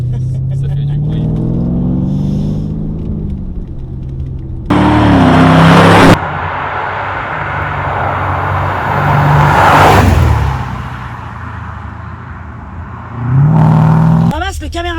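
Range Rover Sport with a 640 hp engine revving hard in repeated bursts, a loud deep rumble swelling and dropping several times, with people talking over it.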